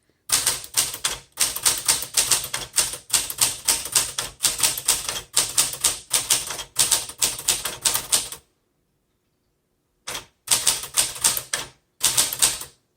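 Rapid mechanical keystrokes clatter from a 1964 Smith Corona Classic 12 manual typewriter in steady bursts, pausing briefly, then resuming with a few more short runs of loud, crisp strikes.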